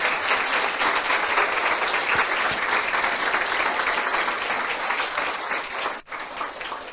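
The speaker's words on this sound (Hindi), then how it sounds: "आइए यीशु के लिए ताली बजाएंगे जोर से" A congregation at a Christian worship service claps loudly in dense, sustained applause that fills the whole stretch, dipping briefly near the end before carrying on.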